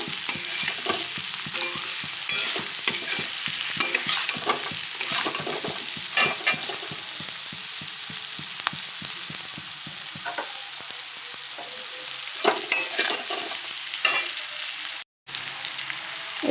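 Food fries in a pan with turmeric and salt while being stirred, a continuous loud sizzle overlaid with quick, regular scraping strokes of a spoon, close and without voices; a fish curry with potato and raw banana is being prepared.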